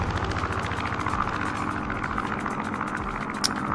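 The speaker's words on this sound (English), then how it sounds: "that Hellcat sounds so good." A Grumman Hellcat's radial piston engine drones loud and steady in flight in Microsoft Flight Simulator, with a continuous pulsing propeller throb throughout.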